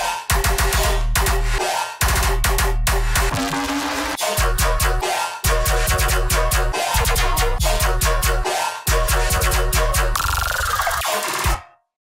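A soloed electronic bass part sounding fat and thick, with a full, steady low end and looping rhythmic bass fills and glitchy cuts, loud and alone for about eleven seconds before stopping abruptly.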